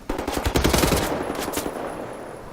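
Rapid automatic rifle gunfire in the video game Wolfenstein: The New Order, a loud dense burst of shots that fades into lingering echo and debris.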